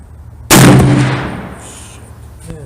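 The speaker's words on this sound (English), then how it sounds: "Alright, here goes one more shot." A single Smith & Wesson 460 Magnum XVR revolver shot fired at an outdoor range: a sharp, very loud blast that booms and then rolls away in a fading echo.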